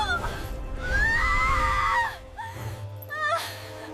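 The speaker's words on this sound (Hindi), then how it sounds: "नाज़ली चीखे।" A dramatized fairy tale character lets out a long, high, wavering scream, followed by shorter breathy cries and gasps, loud and close in a staged sound effect.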